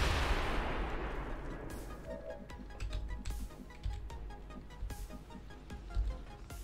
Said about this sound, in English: Let's start with a rocket barrage, shall we?